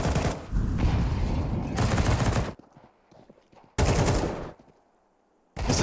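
Bursts of SMG fire from Counter-Strike 2 on the Anubis map during a major esports match: two long, loud sustained volleys separated by a quieter gap, with another burst starting right at the end.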